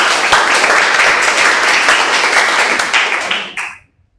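Classroom applause from a group of students, a dense steady patter of clapping that carries evenly for over three seconds and then stops abruptly.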